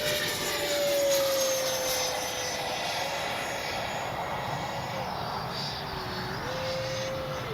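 A Freewing 90mm J-10 RC jet passes by at an RC flying field, its turbine whine loud and steady with a falling pitch as it sweeps past, a voice talking over it.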